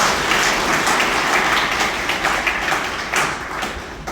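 A crowd at a village meeting breaks into loud, steady applause for a sarpanch, with dense overlapping clapping that continues without a break for several seconds.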